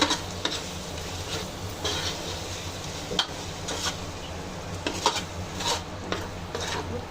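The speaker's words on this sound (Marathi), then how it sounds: "वाटण टाकलं ना, खूप चांगलं फ्राय करायचं" Ground masala paste for pulao frying in a pan, a steady low sizzle with scattered scrapes and clicks of a spoon stirring throughout, close and moderately quiet, no talking.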